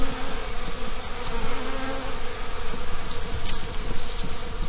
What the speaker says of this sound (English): the bees are really flying all over the place